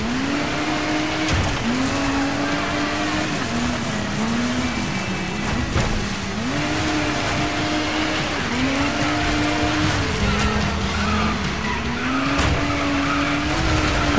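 A rally car races through a Rally Raid stage at Lion's Head, South Africa, in the game Dirt 5, with its engine droning and rising and falling steadily as tires skid and hiss on loose ground, loud and continuous.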